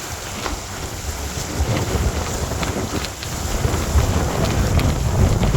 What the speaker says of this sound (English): Still wind is pretty nasty.